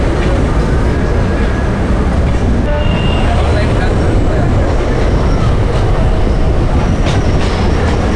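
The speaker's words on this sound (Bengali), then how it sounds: "ট্রেন চলে এসেছে দমদম জংশন" A Sealdah–Gede local train pulls into Dum Dum Junction with a loud, continuous rumble and clatter of wheels and carriages, broadband noise filling the station, while people talk in the background.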